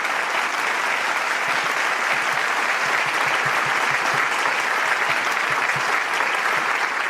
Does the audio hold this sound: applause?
yes